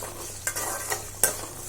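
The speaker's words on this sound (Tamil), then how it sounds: "இந்த பூண்டும் சின்ன வெங்காயம் நல்லா எண்ணெயிலே நல்லா வேகணும்" Small onions and garlic sizzle in hot oil as they are sautéed, with a soft steady frying hiss broken by three sharp stirring scrapes of a utensil against the pan.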